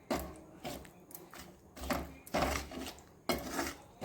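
Spoon scraping and stirring coriander powder and garam masala in a metal pan for spicy fish pickle, several close, rough scraping strokes at an uneven rhythm with no talk.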